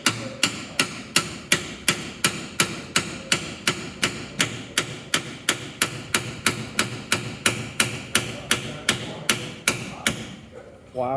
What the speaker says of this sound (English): you really have to hammer it hard